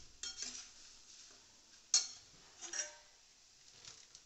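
Puffed rice being stirred and sautéed in a pan with red chilli powder, giving a few light, quiet scraping clinks at spaced intervals, with no talk.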